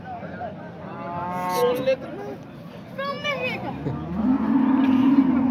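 A cow at the Qumtepa livestock bazaar lets out several drawn-out moos, each rising and falling, amid a background of crowd chatter and nearby talking.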